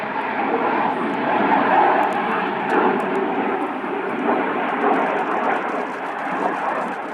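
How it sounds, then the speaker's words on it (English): RAF Red Arrows jets roar past during a RIAT 2025 display, a loud continuous broadband engine rush swelling and easing slightly as the aircraft pass close by. "Each aircraft passes within only 30 metres, 100 feet."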